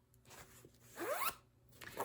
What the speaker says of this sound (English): Oh, it's got this cute zipper pull.